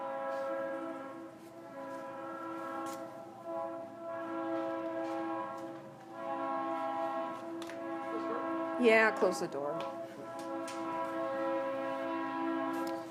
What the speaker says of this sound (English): The Amtrak trains are so polite, and the freight trains are so obnoxious.